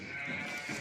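Female breeding lambs bleat close by in a farm pen, a steady wavering cry that fills the short moment with little pause.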